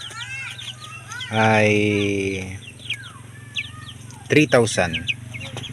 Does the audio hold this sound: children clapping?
no